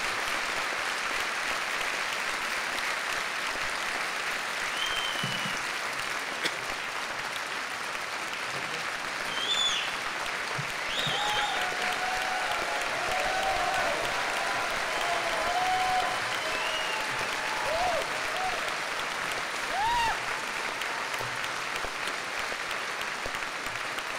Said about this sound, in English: thank you for that very nice Texas round of applause for Dinesh D'Souza